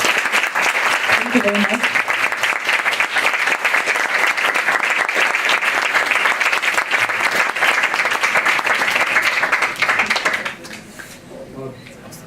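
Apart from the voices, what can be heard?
audience applause for a speaker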